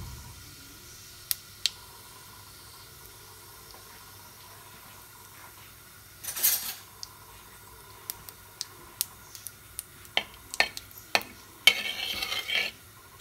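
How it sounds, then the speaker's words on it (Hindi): Whole cumin seeds sizzling in hot oil for a village-style palak paneer, quiet at first, then a burst of crackling and a string of sharp pops and spits, with a brief fuller sizzle near the end. "तेल हमारा गर्म हो गया तो सबसे पहले हम इसमें डालेंगे साबुत जीरा"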